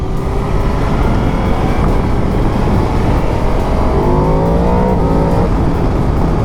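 A 2024 Yamaha MT-10 motorcycle engine revs loud and close in a steady, throaty drone, with the pitch climbing through rising gear-like sweeps in the later part and no talking.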